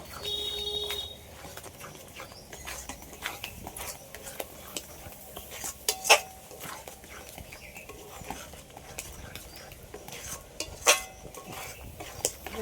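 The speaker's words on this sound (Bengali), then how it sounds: "এইভাবে একটু ভালো করে মিশিয়ে নেব" Mango sandesh mixture stirred in a pan, soft irregular scrapes and light taps of a utensil against metal, fairly close, with two brighter clinks standing out amid a low background hum.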